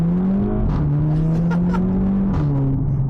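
A modified Audi TT pulls away hard in first gear, its engine note rising steadily in a loud, continuous drone with a brief dip and shift near the end, heard close and alone.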